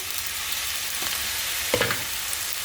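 Steady hot sesame oil sizzling and crackling in a frying pan, a continuous bright hiss with a few louder spits near the end.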